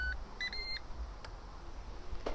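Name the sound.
Ninja air fryer beeping as start button is pressed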